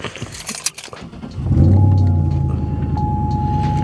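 Keys jangle close by, then a Chevrolet SS with its check engine light on cranks and fires up, settling into a loud, steady idle rumble.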